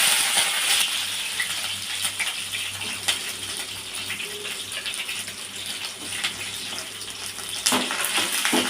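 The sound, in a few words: fenugreek, curry leaves and garlic tempering in hot oil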